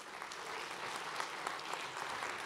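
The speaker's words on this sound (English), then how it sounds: "they deserve a round of applause as well." An audience at a county commissioners election debate in Ottawa applauds steadily, a dense wash of many hands clapping at moderate level with no voices over it.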